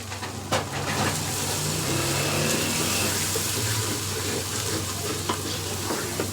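Spiced masala with red chili powder, turmeric, coriander powder and salt frying in a pan for desi chicken korma, a steady close sizzle with occasional stirring scrapes and no talk.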